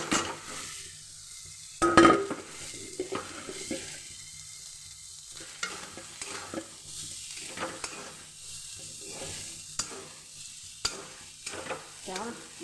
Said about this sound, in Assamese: ইয়াতে পিঁয়াজ আৰু জলকীয়া দিছোঁ, কেঁচা জলকীয়া ভাজোঁতে। ইয়াতে ভাতখিনি দি দিলোঁ।